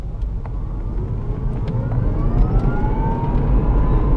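A 2008 Tesla Roadster electric car pulls away and accelerates, a low rolling road rumble with a faint rising whine that builds steadily louder, heard from inside, with no talk.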